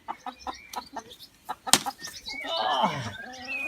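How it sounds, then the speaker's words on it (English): Chickens are let loose inside a newly built homemade coop, with wings flapping hard in a few quick bursts, scattered clucks and scratching, then a louder stretch of fluttering and squawking close by. "we're setting our chickens free inside our new chicken coop that we built ourselves"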